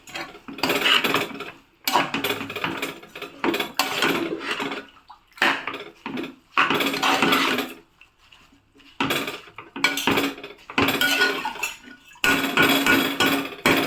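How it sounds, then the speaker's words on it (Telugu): A spoon stirs amaranth leaves frying in a metal pan, repeated scraping and clinking strokes in bursts separated by short pauses, close and fairly loud. "తోటకూర వేసిన తర్వాత అంతా ఒకసారి కలుపుదాం"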